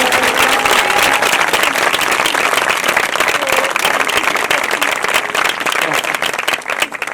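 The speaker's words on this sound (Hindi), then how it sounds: "तो जोर से ताली बजाकर प्रभु को धन्यवाद।" A church congregation claps loudly in praise to the Lord, a sustained dense burst of many hands that fills the hall, with a voice faintly audible beneath it near the end.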